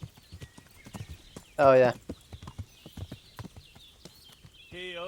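Horse hooves clip-clop steadily along a road in Kingdom Come: Deliverance, a medieval video game. A brief whinny cuts in midway and someone speaks a few words over the hoofbeats.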